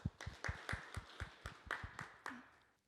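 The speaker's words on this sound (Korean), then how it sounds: "그럼 모두 박수로 시작해 보도록 하겠습니다" An audience claps in a quick, even rhythm to open a youth policy discussion forum, the claps fairly soft and thinning out toward the end.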